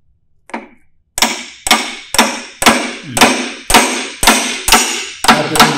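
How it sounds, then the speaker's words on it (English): A hammer strikes a brass rod in a steady series of about nine sharp, ringing taps, close and loud, with a short scrape before the first blow. "Take a brass rod and a hammer."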